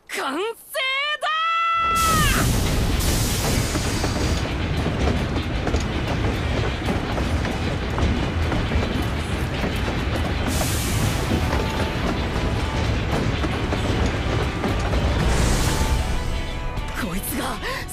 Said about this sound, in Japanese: こいつが最強の爆弾列車、その名もドーンブレイザー号だ！